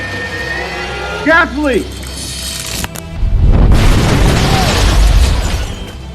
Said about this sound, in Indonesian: dia tidak sengaja menginjak pipa gas yang menyebabkan rumahnya meledak